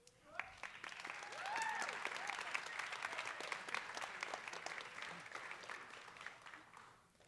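An audience at a Cégeps en spectacle local final claps in sustained, steady applause. It swells quickly and holds at an even level, with a few faint voices in the crowd.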